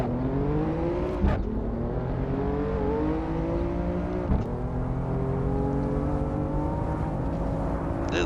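BMW M4 street car engine in the Assetto Corsa racing game, revving steadily with rising and falling harmonic tones through gear changes, loud and continuous with brief shift blips.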